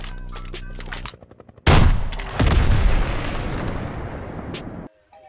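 Panzerschreck rocket launcher firing in a Garry's Mod Call of Duty WW2 weapon pack: a sudden loud blast followed by a roaring, rumbling rocket whoosh lasting a few seconds, then cutting off abruptly.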